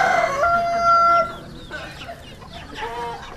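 A rooster crows once, a loud stretched harmonic call up front, followed by softer clucks and a second fainter crow from nearby fowl.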